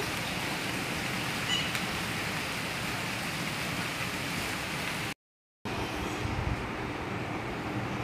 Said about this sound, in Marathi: मस्त रिमझिम पाऊस पडत आहे